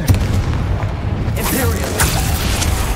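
A Bombarda blast spell goes off in Hogwarts Legacy combat, giving a deep, loud boom with crackling debris. Other spell impacts follow over an excited voice shouting.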